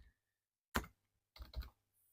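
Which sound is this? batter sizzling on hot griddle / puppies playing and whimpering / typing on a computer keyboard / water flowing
typing on a computer keyboard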